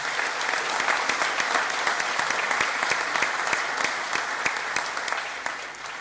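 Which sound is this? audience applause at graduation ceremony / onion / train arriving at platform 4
audience applause at graduation ceremony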